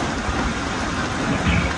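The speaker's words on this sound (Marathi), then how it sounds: "आता खूप पाऊस लागलाय इकडे सुद्धा. खूप वारा सुटलेला तुम्ही बघू शकता. खूप पाऊस होतोय." Heavy rain driven by strong wind in a storm in Hyderabad, a loud, dense, unbroken roar with no talk over it.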